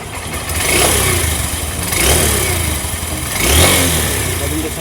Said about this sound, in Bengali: চলেন আমাদের গাড়ির ইঞ্জিন শব্দ আপনাদেরকে শোনাই ইঞ্জিন শব্দ শোনাও